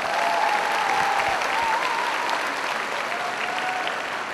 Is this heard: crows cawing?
no